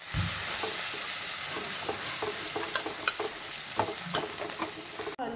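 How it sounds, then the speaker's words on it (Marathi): Garlic frying in oil gives a steady, close sizzle, broken by light scraping and clicking as it is stirred in the pan, with no talking. "लसूण किती खमंग असा भाजला गेलेला आहे, तळला गेलेला आहे"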